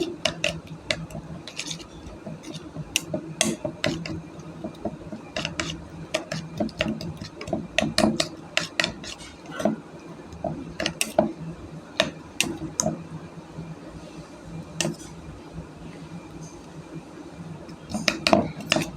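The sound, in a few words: beating eggs with raw potato and green chilli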